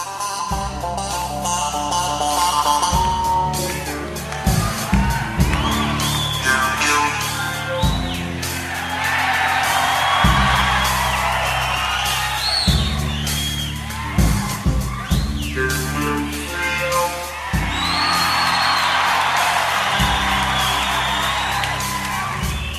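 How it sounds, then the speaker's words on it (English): A live concert crowd whoops and cheers in loud swelling waves over a band playing a song with a talk box, the rock music running underneath the roar the whole time. "Everyone's cheering, watching him talk into the microphone with that talk box"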